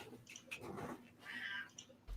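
A cat lets out a loud, drawn-out yowl with wavering pitch, following a few shorter cries, close by with no talking.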